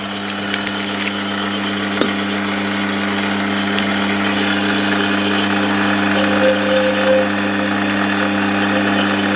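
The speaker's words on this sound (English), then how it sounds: "Running the lathe at about 400 RPM." A metal lathe running at about 400 RPM while overboring the air tube of a Daisy Red Ryder Model 1938B, giving a loud steady motor hum with faint scraping and a sharp click early on.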